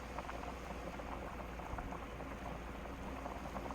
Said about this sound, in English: So I got it up to a good boil again here